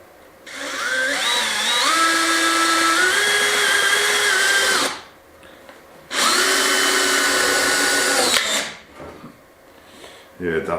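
A power drill drives screws into timber during a farmhouse kitchen renovation, with two long close whining bursts whose pitch rises and shifts under load, separated by a short pause. A voice speaks briefly between them.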